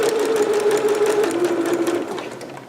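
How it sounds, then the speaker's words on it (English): Sewing machine stitching and back stitching the armhole edge of a green performance gown: a steady close mechanical whir with rapid needle knocking that shifts pitch mid-run, then slows slightly at the end. "Now we need to finish our last armhole edge. stitching, back stitching,"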